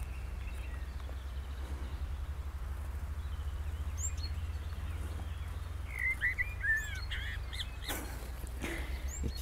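Two tits chirp in short bright calls above a vegetable farm, a cluster of quick chirps in the second half over a steady low outdoor rumble, fairly faint with no talk.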